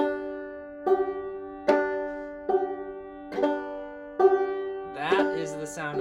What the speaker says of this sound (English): That is the sound of clawhammer banjo.